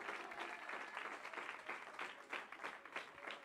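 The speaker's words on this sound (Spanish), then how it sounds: "dele ese aplauso al Señor" A church congregation claps steadily through a Spanish-language sermon, with dense, sustained applause filling the whole stretch and a few louder bursts near the end.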